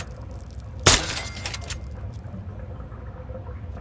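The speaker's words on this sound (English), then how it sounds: "Think you can take care of that with your BB gun? Just aim and shoot." A BB gun fires once at a rad roach in Fallout 3, a single sharp crack that rings briefly before fading into a steady low background hum.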